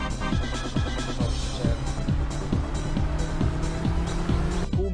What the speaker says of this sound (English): now you can press down the accelerator and drive off